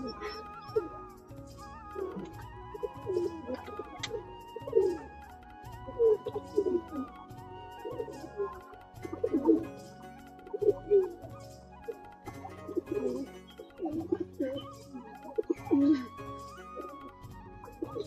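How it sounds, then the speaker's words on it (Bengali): Pet Giribaz pigeons cooing softly in a loose, repeating rhythm while they drink water and eat, close by, with a low mechanical hum and speech underneath. "তো বন্ধুরা পায়রাগুলো খেতে থাকুক"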